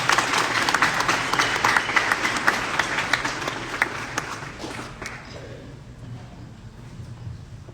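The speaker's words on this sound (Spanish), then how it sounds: "Un aplauso." Applause fills the room at the inauguration of the OHMUN 2023 conference, a crowd clapping steadily for about five seconds before it tapers off into quiet room noise.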